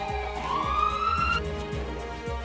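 An ambulance siren at a COVID hospital at night, a loud, continuous wail that sweeps upward and then holds, heard alone without any talking.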